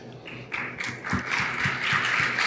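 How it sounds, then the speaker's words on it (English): Audience applause for UFC fighter Dustin Poirier: a steady wash of crowd clapping that builds and holds at moderate loudness for a couple of seconds, with a few sharper individual claps near the start. "People are clapping for him."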